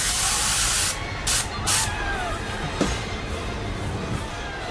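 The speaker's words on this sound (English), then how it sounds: "I'm going to do that with a thinner spray of paint" A spray paint can hisses in a long continuous burst, then gives two short sharp sprays, loud and close, while painting a mask.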